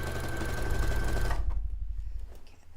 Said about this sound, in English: Do not stretch the fabric to be straight in your sewing machine.